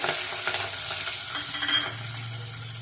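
Green chillies and onion fry with peanuts in a pan, a continuous close sizzle with light scraping stirring throughout.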